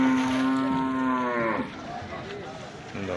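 A buffalo at a rural livestock market gives a single drawn-out moo, near and clear, fading after about a second and a half into faint outdoor background.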